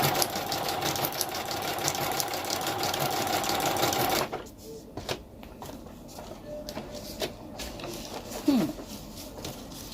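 Sewing machine running an oversized wide stitch, a close, steady mechanical whir for about four seconds that then stops, followed by faint clicks and handling sounds with talk over it.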